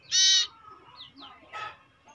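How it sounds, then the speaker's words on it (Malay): A two-week-old common iora (cipoh) chick gives a loud, harsh call followed by a few shorter, softer chirps, heard close and alone. "Burung cipoh sirtu Aceh baru berusia 2 minggu"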